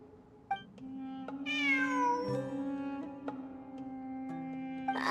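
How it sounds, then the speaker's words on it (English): A cat meows in Genshin Impact, a long, close, clearly voiced cry that bends in pitch, set against a steady musical drone with a few soft plucked notes and clicks, with no talking. "It really is a cat."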